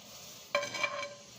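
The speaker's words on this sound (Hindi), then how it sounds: "अब इसके अंदर हम सेमियों को डाल देंगे" Vermicelli goes into boiling milk in a pot and is stirred, giving a sudden close metallic clink followed by brief scraping and bubbling, faint overall and without talk.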